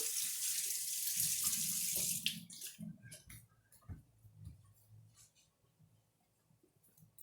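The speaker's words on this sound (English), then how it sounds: "I'm going to wash my hands real quick" Tap water runs steadily into a kitchen sink for about two seconds as hands are washed, then cuts off, leaving soft wet rubbing and drips close by.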